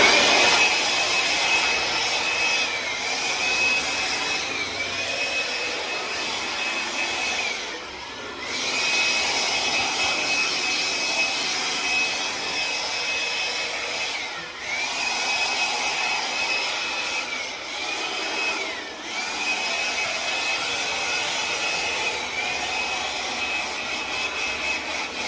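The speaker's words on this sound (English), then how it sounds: "get me blower as well, Phil." A handheld blower used to blow debris out of a yard, a steady loud broadband rush with a thin whine running through it, dipping briefly every few seconds as it is moved around.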